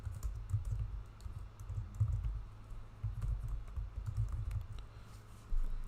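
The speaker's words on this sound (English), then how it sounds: "and then we type in a message." Steady typing on a computer keyboard, a continuous patter of soft close keystrokes with a low background hum and no speech.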